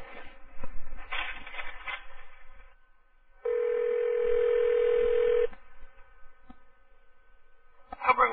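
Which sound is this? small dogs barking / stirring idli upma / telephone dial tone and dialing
telephone dial tone and dialing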